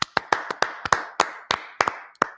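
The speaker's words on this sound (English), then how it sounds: "Clap it up for Brotherhood class." Group clapping in unison at a Brotherhood class gathering in New York, about a dozen sharp, loud claps in an uneven rhythm with short gaps between them and no talking.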